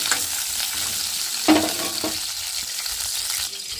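Chopped tomatoes, green chillies and onion hit hot smoking oil in a pan, giving a continuous close sizzle with stirring scrapes and a couple of louder clatters, no voices.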